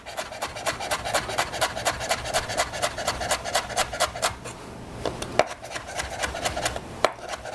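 A knife chops fennel leaves on a board in quick, evenly spaced strokes, briefly pausing midway before resuming the same brisk rhythm, close and clear without speech.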